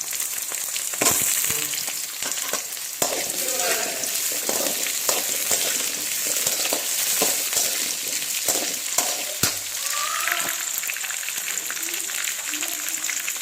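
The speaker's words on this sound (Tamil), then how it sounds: "அந்த சவுச்சவையும் அதில் சேர்த்து நல்லா எண்ணெயில் வதக்கணும்." Chayote sautéing in oil for a sambar, a steady loud sizzle that runs throughout with occasional stirring knocks and clicks against the pan.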